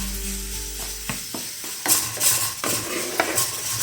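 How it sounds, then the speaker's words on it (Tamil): Sautéed chana masala is scooped from a pan into another vessel, with a low hum fading out at the start, then spoon scrapes and clinks against metal, close and fairly loud, and no talking. "இப்போ அடுப்பை ஆஃப் பண்ணிவிட்டு இதை வேறு ஒரு பாத்திரத்துக்கு மாற்றிக்கலாம்"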